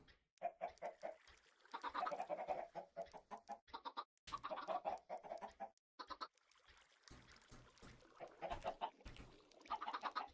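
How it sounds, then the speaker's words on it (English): Video game chickens cluck in a busy, overlapping stream of short clucks and squawks, fairly close and continuous with brief pauses, no talking over them. "once another chicken lays an egg"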